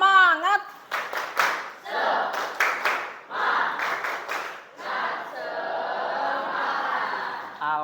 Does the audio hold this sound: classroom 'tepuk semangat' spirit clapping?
yes